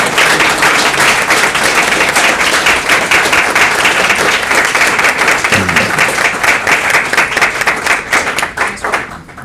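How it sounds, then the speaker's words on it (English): Loud, continuous applause from an indoor audience at a cycling advocacy group's annual general meeting in Winnipeg, dense clapping sustained throughout before thinning slightly near the end. "So I would like to give a warm round of applause to Patty Weens"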